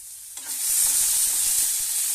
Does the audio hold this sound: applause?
no